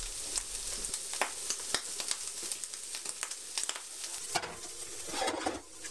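Bacon fries in a pan with a close, steady sizzle and crackle, broken by repeated scraping taps as it is stirred, with no one speaking.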